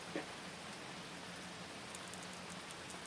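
Rain falls against a window glass in a steady, faint hiss of dense drops, even and continuous without breaks, in an AI-made visual novel game, with no talking.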